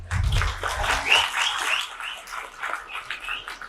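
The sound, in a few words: audience applause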